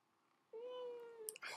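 A house cat gives one clear, drawn-out meow at close range, holding a steady pitch before breaking off into a short rough burst of noise, against a quiet room.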